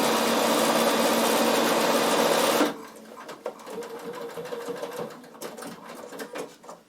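A Bernina sewing machine straight-stitches polar fleece with a fast, even mechanical whir, close and loud for under three seconds before stopping abruptly. Quiet handling noises follow.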